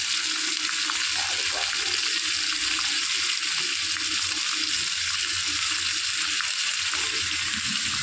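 Raw prawns sizzle steadily in a hot pan, a loud continuous frying hiss with faint stirring noises and no one speaking.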